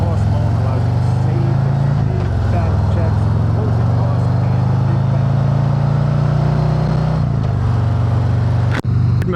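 A Harley-Davidson Road Glide cruising, its engine a loud, continuous low rumble close by with a slight drop and recovery in pitch around a gear change, wind noise and a brief thump near the end.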